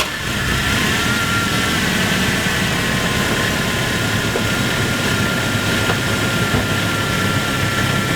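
A 1998 Chevy S10 engine running steadily at idle right after an oil change, a loud, continuous, even mechanical hum and whir with no revving or voices.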